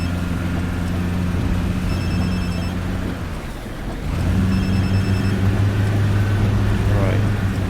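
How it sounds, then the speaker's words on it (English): A bus engine in Fernbus Simulator drones at high revs, a steady low hum with a brief dip midway before rising again, heard close and continuous. "it sounds like I'm revving the heck out this engine"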